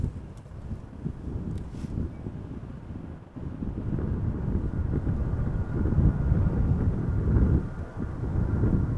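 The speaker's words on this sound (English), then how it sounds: "the wind has increased a little bit" Steady wind buffeting an outdoor microphone at Amsterdam Schiphol Airport, a continuous low rumble that swells gradually louder, with faint distant airport background noise.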